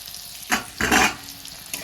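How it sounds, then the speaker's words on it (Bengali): Potatoes frying in mustard oil, heard as two short, loud bursts of sizzling and stirring in a pan, with quiet gaps between them. "আলুটা প্রথমে ভেজে তুলে নেবো"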